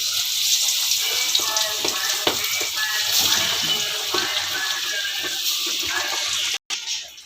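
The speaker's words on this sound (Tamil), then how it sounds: "நல்லா எண்ணெய் காஞ்சிடுச்சு, மீனை போடுவோம்." Steady, dense hissing and crackling of fish frying in hot oil, loud and close throughout, with a brief dropout near the end.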